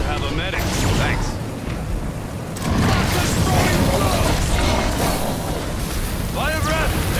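A monster's fire breath attack in the Evolve game: a loud, roaring rush of flame that swells partway through and keeps going, mixed with game noise and some speech-like sounds.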